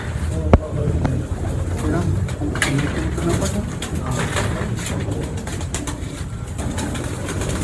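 Pigeons coo steadily in a noisy enclosure, with people talking over the soft, continuous birdsong and occasional sharp clicks.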